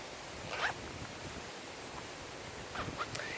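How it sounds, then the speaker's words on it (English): A zipper on a hiking shirt pocket is pulled in two short, close zipping strokes separated by a pause, over faint wind-like background noise. "it's also got a pocket right here that zips."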